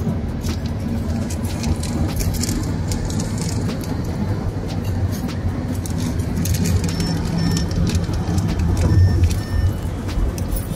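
Heavy road traffic on a drive to Tiruchirappalli in India: a continuous, loud broadband roar of vehicles and road noise, steady throughout with scattered faint clicks and no talking.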